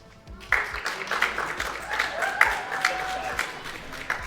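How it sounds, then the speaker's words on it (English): An audience at a college combat robot competition claps in a sustained round of applause, dense and steady from start to finish, with a few scattered whoops mixed into the clatter of hands. "And round of applause if you think Super Smash Power."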